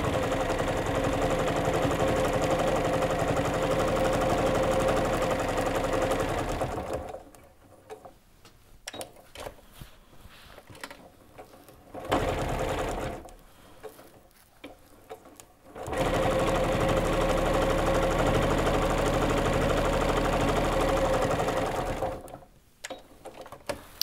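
A sewing machine stitches quilting lines across a string block potholder, running in long steady whirring bursts, close and loud, with short quiet pauses between stretches of stitching.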